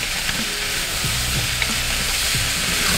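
Black pepper pork stir-frying in a pan indoors, a dense, loud, continuous sizzle with faint scrapes of stirring underneath, heard up close for a few seconds without voices.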